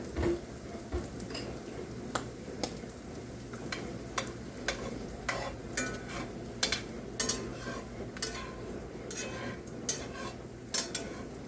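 Two large eggs fry in a pan with a soft, steady sizzle, while light utensil clicks and taps come through at irregular moments.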